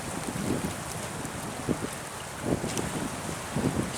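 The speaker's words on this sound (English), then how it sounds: "It's windy as all get up today." Strong gusty wind blows beside the Chickahominy River near Jamestown, a steady rushing roar buffeting the microphone with brief louder gusts and no voices.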